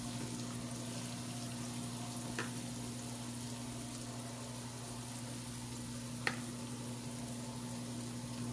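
A whole red onion sizzles in hot oil with a steady, close frying hiss, broken by a couple of brief clinks from stirring.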